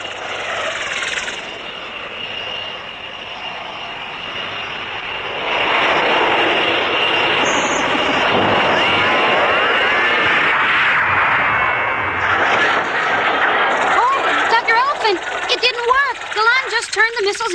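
Cartoon missiles launch and fly in an Astro Boy episode, a sustained roaring, rushing blast that swells midway with whistling, swooping sweeps toward the end.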